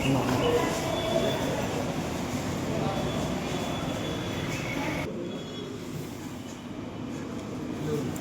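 A train rumbles steadily through Bapatla railway station, a continuous loud roar of wheels and carriages that drops off abruptly partway through, with people talking over it.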